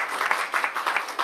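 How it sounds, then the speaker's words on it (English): Brief scattered clapping from an audience at a press conference with the Prime Minister, a light patter of hands lasting only a moment. "we should clap for that"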